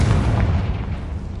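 A Confringo fire spell explodes in the video game Hogwarts Legacy, a loud deep boom that rolls and slowly fades over about a second and a half.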